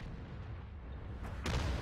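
A tank cannon fires in a World of Tanks battle, one loud booming shot near the end following a quieter stretch of low rumbling.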